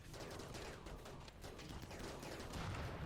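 Gunfire during a tribal raid in the Rimworld video game, a dense stream of small, rapid shots blending into a steady, fairly quiet crackling wash.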